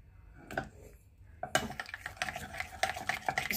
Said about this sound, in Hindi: इसको अच्छी तरह से चमचे से मिला लेंगे